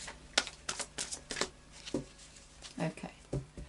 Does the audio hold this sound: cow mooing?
no